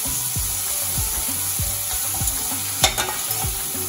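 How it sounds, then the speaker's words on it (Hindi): Honey chilli potatoes are stir-fried in a pan under a steady, loud sizzle. Regular spatula strokes scrape through it about twice a second, with a few sharper knocks near the end. "थोड़ी देर यूं ही चलाते रहेंगे"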